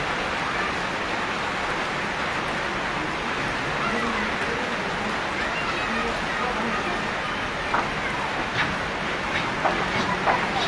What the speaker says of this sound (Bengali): বৃষ্টি কমে কিছুটা কমেছে।